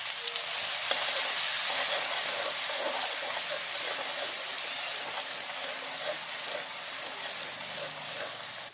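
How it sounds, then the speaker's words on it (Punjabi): Garlic paste frying in hot oil in a pan, a loud, steady sizzle with a light scraping of stirring running through it and no voices. "ਇਹਦੇ ਵਿੱਚ ਅਸੀਂ ਹੁਣ ਪਾ ਦਾਂਗੇ ਆਪਣਾ ਲਸਣ ਦਾ ਪੇਸਟ ਇਹਨੂੰ ਚੰਗੀ ਤਰ੍ਹਾਂ ਪਕਾ ਲਾਂਗੇ"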